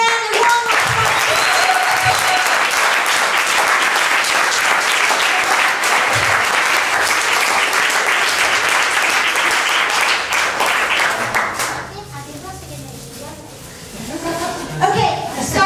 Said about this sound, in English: so give again a warm applause.